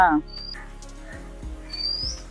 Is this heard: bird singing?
yes